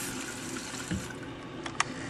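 A faucet running water into a sink, a steady hiss and splash at moderate loudness with a couple of brief clinks near the end, and no talking.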